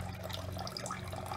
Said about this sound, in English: Water fountain is running.